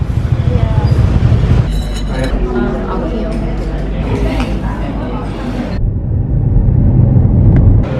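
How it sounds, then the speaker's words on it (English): Busy street traffic in Saigon, with cars and motorbikes passing close by in a steady rumbling stream, engines droning and swelling, while people talk over the noise. "Look at the traffic, it's crazy."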